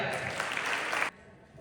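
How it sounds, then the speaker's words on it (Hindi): A brief burst of clapping from a crowd at a school's model village assembly event cuts off abruptly, leaving quiet room noise. "जोरदार तालियां।"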